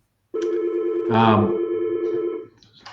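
A telephone ringing loudly during a webinar on Tasmanian veneers, one sustained ring with a voice speaking over part of it.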